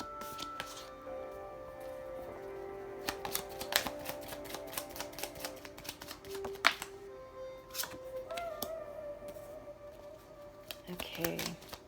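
Oracle cards are shuffled and riffled in quick clattering bursts for a love reading, close and crisp, with talking running beneath the card noise.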